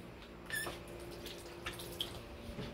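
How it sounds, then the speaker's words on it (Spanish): Water from a tap trickles and drips softly as a baby's hands are washed with soap in a sink, faint splashes and small squeaks in a quiet room. "Hay que lavarle bien las manitas. Sí. Con agua y jabón."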